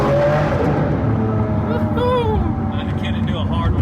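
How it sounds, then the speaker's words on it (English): A rebuilt Lamborghini Aventador's V12 engine roars and revs loudly with the windows up on a test drive, a dense, continuous growl with rising sweeps, while voices are faintly present. "this is the perfect sounding car, V12"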